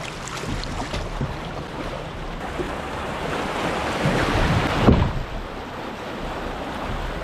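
Fast-moving river water rushes around a boat while fishing for smallmouth bass, a steady loud wash with wind buffeting the microphone and one heavier surge near the end.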